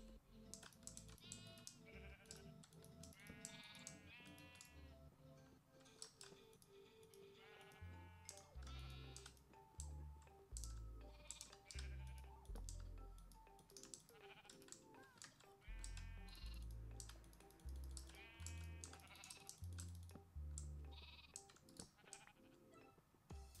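Sheep bleat repeatedly in the video game Kingdomcraft, several wavering calls over a steady game soundtrack with a pulsing low beat, alongside clattering keyboard typing.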